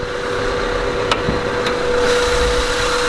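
A 2000 Honda Civic EX with its D16Y8 engine idling under an open hood, a steady, even hum with a faint whine and two brief clicks, recorded close and without talk.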